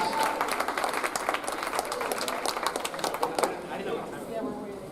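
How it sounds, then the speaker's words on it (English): A crowd applauding the 2018 CSAC champion Gators volleyball team at a selection announcement, brisk sustained clapping with cheers and chatter mixed in, tapering slightly near the end. "So can we please have one more round of applause for our 2018 CSAC champion, Gators."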